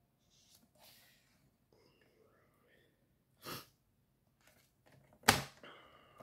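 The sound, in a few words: sniffling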